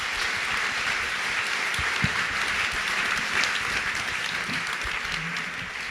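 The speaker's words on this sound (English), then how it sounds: "Can we have a warm round of applause?" Audience applause after a Bitcoin physical security panel at a conference, steady dense clapping from a large crowd, sustained at even loudness for the whole stretch with a few louder individual claps.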